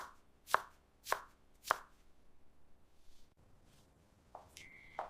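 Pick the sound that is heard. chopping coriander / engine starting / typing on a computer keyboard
chopping coriander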